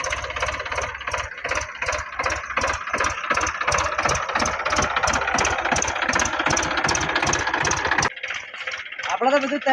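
A tractor engine idles close by with a fast, rhythmic diesel chug and some rattle, running steadily before cutting out near the end. Faint voices can be heard afterward.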